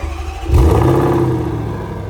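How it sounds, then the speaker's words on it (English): A V8 Land Rover Defender 90 idles through its Miltech exhausts, a deep steady burble that swells with a quick blip of revs, then settles back to a throaty rumble. "So this is the exhaust sound on those Miltech exhausts on this V8 Defender."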